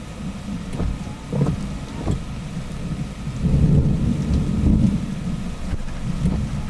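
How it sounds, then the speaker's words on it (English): Deep thunder rolls through a Florida thunderstorm, a low rumble that swells and fades over several seconds beneath steady rain with no voices present. "some nice deep thunder could be heard"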